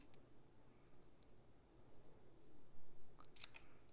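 Scissors snip the ends of a ribbon bow on a paper-craft pinwheel box, a quiet couple of cuts near the end under faint room noise.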